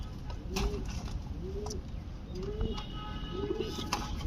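Giribaz pigeons coo in a steady series of four soft, rounded calls about a second apart, close by over a low background rumble, with faint rustling between calls.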